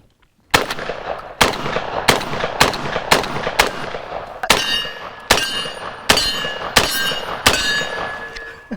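A Panzer Arms M4 shotgun loaded with high brass shells fires ten sharp, loud blasts in a fairly regular rhythm, each one ringing with a metallic echo, close up and with no talking.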